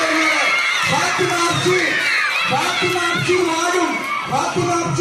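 A large crowd at an election event cheers and shouts excitedly, with children's voices mixed into a continuous, loud wash of whoops and chatter; the clapping itself is not clearly distinct.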